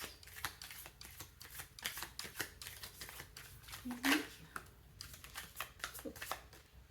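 Tarot cards being shuffled, a rapid run of soft papery flicks and riffles, with a voice speaking quietly underneath.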